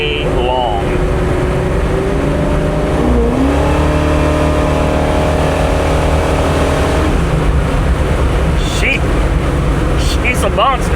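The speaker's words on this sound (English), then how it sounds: "The car sounds amazing. The exhaust is wild." A 1967 Chevy Camaro with 308 gears revs hard. Its loud, rumbling exhaust climbs and falls in pitch over a continuous deep drone, close by, while voices talk over it.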